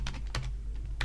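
Keystrokes on a computer keyboard as a short command is typed on Linux Mint 18.1, a few quick clustered clicks close by, then a pause and a final pair of taps, with no voices.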